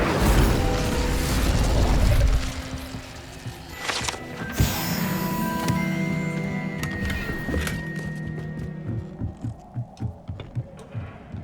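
A fire spell is cast in Hogwarts Legacy, starting with a loud low whoosh, then a crackling burst with ringing magical tones, and fading into a series of pulsing thumps.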